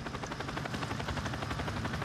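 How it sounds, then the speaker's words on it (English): Chopper gunner helicopter in a video game: a steady, loud rotor drone with fast, even blade pulsing that stays constant throughout, with no talking. "I don't see him in the chopper gunner."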